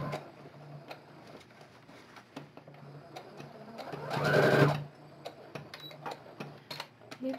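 Sewing machine stitching fabric for a wine bottle holder, quiet ticking of the mechanism building to a brief louder whirring run of stitches mid-stretch, then soft clicks again.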